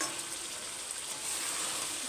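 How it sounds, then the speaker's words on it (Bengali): Meat stir-frying with ginger and garlic paste in a pan, giving a steady, even sizzle with soft stirring scrapes that stays level and close throughout. "একটু আদা বাটা রসুন বাটা দিয়ে কষিয়ে নিচ্ছি"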